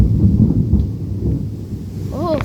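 A thunderstorm with heavy rain: a loud, close, low rumble of thunder rolls over a steady wash of rain, and a brief voice-like sound rises at the end.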